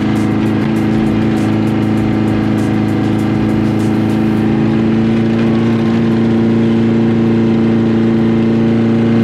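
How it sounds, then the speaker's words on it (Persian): A loud car engine revs steadily with a deep, rumbling exhaust roar, sustained throughout without pause. "فقط امیدوارم با این صدای اگزوز ماشین توقیف نشه"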